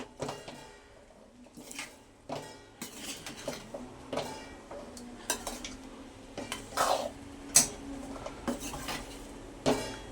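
Vangi bath, a rice and brinjal dish, being stirred in a metal pan with a spoon, giving repeated clattering scrapes and knocks at an uneven rhythm, close and fairly loud, with a faint sizzle underneath.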